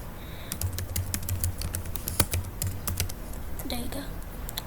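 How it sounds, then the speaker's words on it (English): Fingers tap out a password on a computer keyboard during a Windows XP setup in VirtualBox, a run of crisp close keystrokes in uneven bursts, with a low voice murmuring briefly near the end. "So just type in an administrator password."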